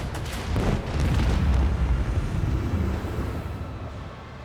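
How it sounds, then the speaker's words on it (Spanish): A heavy, rumbling volley of macro cannon blasts in Warhammer 40,000: Rogue Trader swells into a sustained roar, dense and booming, then slowly fades with no voices present. "Macro cannons, volley!"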